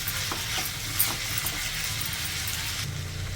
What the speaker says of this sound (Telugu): ఇప్పుడు కొద్దిసేపు ఫ్రై చేసుకోవాలండి ఈ మొటిక్కాయల్ని